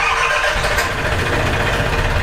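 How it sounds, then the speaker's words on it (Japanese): A small fishing boat's engine is started and settles into a steady, loud mechanical rumble, close by, with no talking. "じゃあエンジンかけて"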